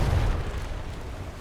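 A deep booming blast from a ship's starboard cannon broadside in a naval game, one heavy low rumble that fades out over about a second.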